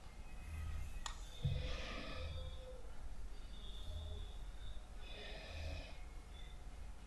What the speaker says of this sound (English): That's not me snoring, by the way, that's my dog.